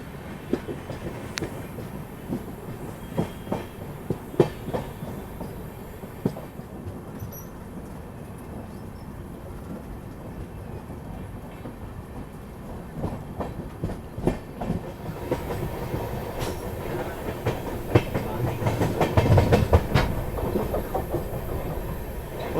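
Malwa Express passenger train pulling out of Indore toward Bhopal, a continuous rumble of wheels on rails with rhythmic clickety-clack of carriages, heard from inside the coach and growing louder toward the end.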